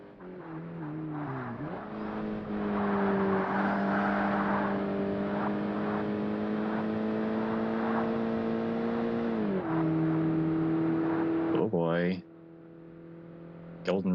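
A Corvette engine races in Forza Motorsport on an original Xbox. It drones steadily at high revs, with gear shifts that step the pitch up and down and a sharp rising whine near the end. Voices talk faintly underneath.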